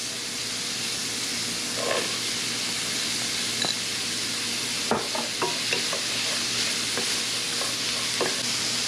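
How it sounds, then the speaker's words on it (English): Carrots go into a hot pot for lasagna with a steady sizzle and hiss, broken by scattered clacks and stirring knocks from utensils against the pot. "And now I'm going to add my carrots."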